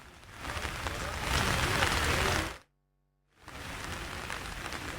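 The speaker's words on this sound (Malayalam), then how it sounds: "ഇന്ന് മഴ പൊതുവെ ശക്തി കുറഞ്ഞിട്ടുണ്ട്." Steady rain falling in Thrissur city during a monsoon downpour, a dense continuous hiss that cuts out abruptly for a moment mid-way and then resumes at similar strength.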